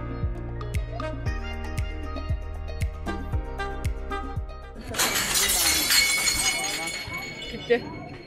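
Glass shatters loudly partway through, a bright crash followed by a spray of tinkling fragments, after a stretch of ringing musical tones; people talk around it.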